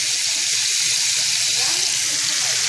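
Shrimp fry in butter and oil with a dense, steady sizzle, a loud close bright hiss running unbroken for a few seconds.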